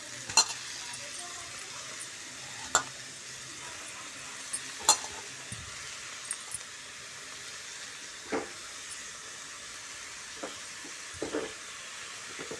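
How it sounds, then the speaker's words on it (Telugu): Moong dal and amaranth leaves are stirred in hot oil in a pan. A faint, soft sizzle runs through, broken by scattered sharp scrapes and clinks of a spoon against the pan. "నూనెలో పప్పు మంచిగా వేగింది ఇప్పుడు తోటకూర వేసుకుందాం"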